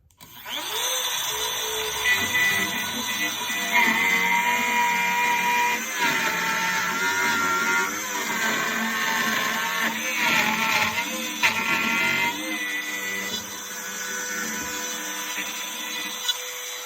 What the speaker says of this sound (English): Notice going around here that my router wants to tip a little bit